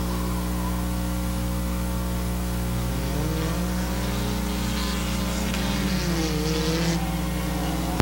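Race cars running a figure 8 feature event at Midvale Speedway, engines droning and revving continuously with pitch shifting as cars pass, loud and layered over a steady low rumble.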